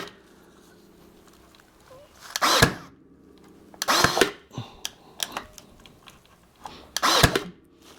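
Narrow crown stapler driving 3/4-inch staples into a firewood bundle: three loud, sharp pneumatic bursts spaced a second or more apart, each followed by quieter clicks and knocks.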